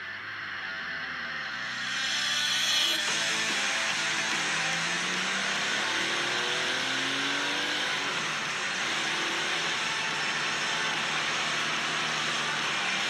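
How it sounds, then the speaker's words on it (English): A 1974 Porsche 911 Carrera drives along North Georgia mountain roads, its engine rising and falling through gears in a continuous, fairly loud in-car drone with shifting pitch sweeps. "I'm pretty excited to go drive that 74 Carrera of his, so let's get out and drive."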